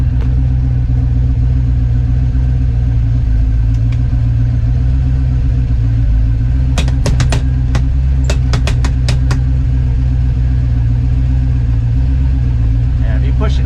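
A Winnebago motorhome engine runs steadily in gear with a low, continuous rumble throughout, and a burst of sharp clicks and rattles breaks in near the middle.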